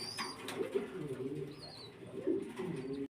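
Pigeons kept for sale, with eggs and chicks, coo in low, rolling bursts close by, with a few higher chirps and faint background voices between the calls.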